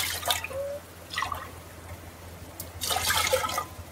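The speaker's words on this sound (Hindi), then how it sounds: "इसमें हम लगभग 3 गिलास के करीब पानी डालेंगे।" Water being poured into a pressure cooker on a gas stove for cleaning, heard as intermittent splashing and trickling bursts, close and moderately loud, with quiet pauses between pours.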